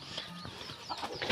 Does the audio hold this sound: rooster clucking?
yes